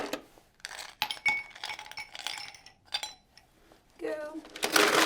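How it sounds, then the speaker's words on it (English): Ice cubes dropped into a cocktail glass and a metal shaker tin, a run of bright clinks and rattles of varying loudness, close by, with no talking. "I'm actually going to ice my glass as well as my tin here."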